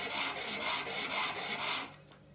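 A Mercury 3.3 hp outboard engine part, a degreased block or head, is rubbed back and forth on sandpaper laid on a flat surface, giving about six steady, near scraping strokes before stopping.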